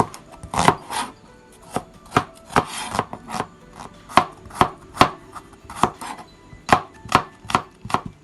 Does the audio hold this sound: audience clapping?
no